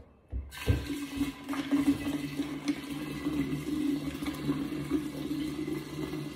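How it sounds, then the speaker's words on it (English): Six bottles of liquor poured all at once produce a steady, gushing stream of liquid that starts abruptly and runs continuously, close and fairly loud, with no talking over it. "take your 6 bottles of booze and just start pouring them up"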